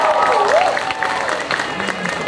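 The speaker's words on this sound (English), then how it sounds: "Yes, applause, please." Applause from an audience at an anime convention dance competition, a steady dense wash of clapping and crowd noise filling the whole stretch, with a faint tonal swoop and some stage sound mixed in.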